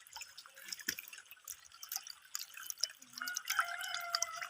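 Water pouring from a pipe into a concrete tilapia tank in a former pig pen, a steady trickling splash with scattered drips, fairly faint and close, no talk.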